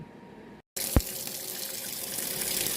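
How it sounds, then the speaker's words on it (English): Tap water runs steadily into a kitchen sink to wash kale for a salmon steak dinner, a continuous hiss with one brief splash near the start, no talking. "I'm going to wash my kale like I do my greens."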